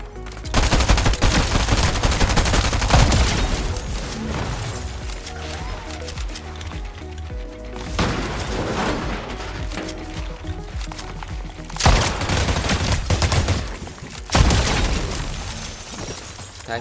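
Rapid gunfire in the video game Fortnite, with dense bursts and volleys of shots running almost continuously, some heavier booms standing out near the end, loud and close with no talk over it.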